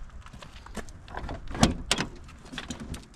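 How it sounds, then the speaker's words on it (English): The door of a Ford Bronco with a fiberglass top, crushed by a huge steel beam, is forced open with a series of metallic clunks, creaks and scrapes, peaking in two sharp bangs midway. "Guess we'll give this one the door test as well."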